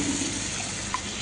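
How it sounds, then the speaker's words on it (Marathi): Water poured into a pan of fully browned onions, a steady broadband watery rush with a short splash partway through, close and continuous for about a second with no talk. "आपण पाणी टाकूया यात"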